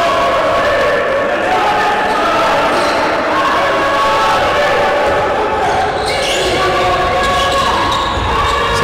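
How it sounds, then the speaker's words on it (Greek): Basketball fans of Ionikos cheer and applaud loudly in an indoor arena, a steady dense roar of clapping and shouting that fills the whole stretch, with talk underneath. "Πολλά τα μπράβο και τα χειροκροτήματα από τους φίλους του Ιωνικού και από τον Πάγκο"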